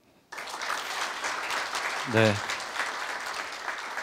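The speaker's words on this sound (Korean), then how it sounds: "다시 한번 큰 박수 부탁드립니다" An audience applauds at a university staff retirement ceremony, a dense sustained round of clapping that starts abruptly and carries on steadily, with a brief spoken word partway through.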